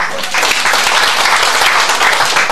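Loud, sustained applause from an audience at a dinner show, dense clapping filling the room continuously.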